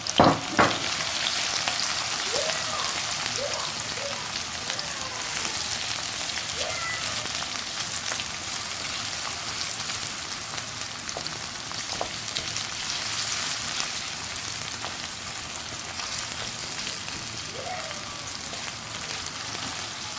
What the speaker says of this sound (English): So I'm going to put that in there and start frying them.